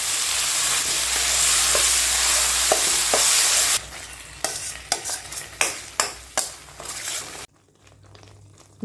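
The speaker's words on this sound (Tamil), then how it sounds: "இப்போ நம்ம அரைச்சி வச்சுருந்த கருவேப்பிலை பேஸ்ட்டை வந்து இதில் ஆட் பண்ணிக்கலாம் நல்லா வதக்கிக்குவோம்" Curry leaf paste with garlic sautéing in oil in a pan, a steady broadband sizzle followed by a run of sharp, rhythmic spatula scrapes and stirs that break off abruptly near the end.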